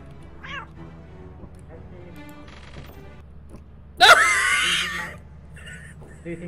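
A cat lets out a loud, drawn-out meow over a low steady hum, with fainter meows and murmuring voices around it.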